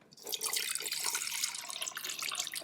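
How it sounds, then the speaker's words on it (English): Plain RO water is poured steadily from a cup into a potted orchid, making a continuous close splashing trickle that runs for a couple of seconds without talk. "fill it up with some just plain RO water"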